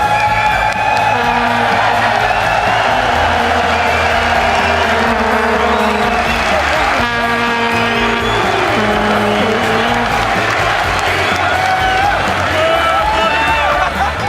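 An esports crowd at an LCS event in London roars, cheers and whoops continuously, a loud dense wall of voices with no pauses.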